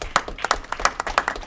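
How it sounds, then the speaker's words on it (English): A city council meeting audience gives a brief round of applause, with a few distinct, rhythmic claps close by rather than a full roar. "So let's give those folks a round of applause."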